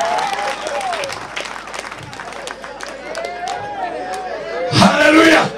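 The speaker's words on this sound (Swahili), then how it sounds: "Pigia Yesu makofi" A church congregation claps during a sermon, a steady broad patter of hands mixed with crowd babble and shouts that swells louder near the end.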